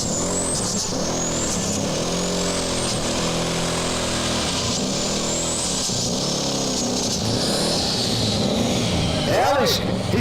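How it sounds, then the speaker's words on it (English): A 504 cubic inch triple-turbo V8 drag racer engine turns over and tries to catch, with repeated lumpy cranking surges at a drag strip. Speech runs over it, and a sharp whistling rise is heard near the end. "D-cube down to 504 cubic inches, 3 turbochargers, and it's a V8, so it's going to sound a little different"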